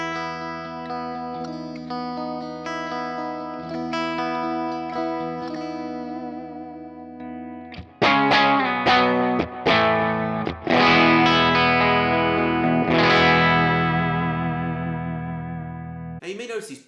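Electric guitar through a Tone Junkie Kemper amp profile, first ringing clean chords, then strummed harder so the tone breaks up into crunchy overdrive with sustained, chorus-tinged chords; loud and alone.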